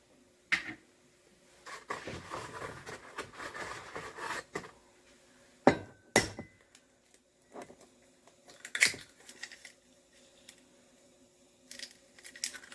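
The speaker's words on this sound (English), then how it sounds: "I just crack them in a cup." Eggs cracked one after another into a cup in a quiet kitchen, sharp isolated taps and cracks separated by soft handling noises and pauses, close and fairly faint.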